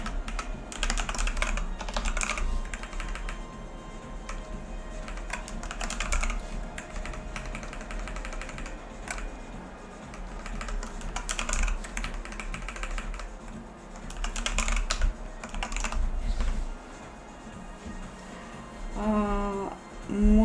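Computer keyboard keys clatter in quick, irregular bursts of typing while someone writes a game engine in C++ and Vulkan, with short pauses between flurries and a brief tonal sound near the end.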